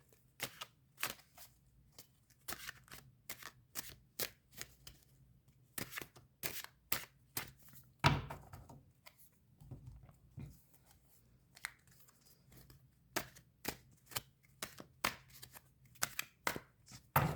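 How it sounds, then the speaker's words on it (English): Two tarot card decks are shuffled by hand, producing quiet, close riffles and sharp card snaps in irregular bursts, with brief pauses and a few louder slaps. "Both have been pre-shuffled, but we'll shuffle them a little bit more to see what messages they have for you today."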